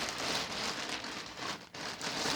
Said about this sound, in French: Je vais essayer de vous la montrer sans le plastique. Ça va faire un peu de bruit, désolé.